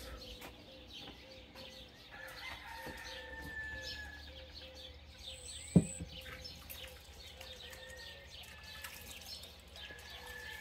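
Roosters and small birds calling around a rural ranch at daybreak under a cloudy sky, with a steady background of bird chatter and one sharp nearby knock partway through; the crowing is distant and mixed in with the chirping.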